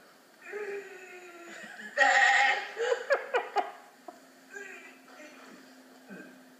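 A man imitates a billy goat's bleat with his voice, a wavering nasal cry followed by several short stuttering bursts, then quieter trailing vocal sounds, close and fairly soft.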